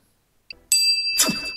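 A bright notification bell ding rings out cleanly with a sustained shimmering tone after a short soft click, alone with no talking.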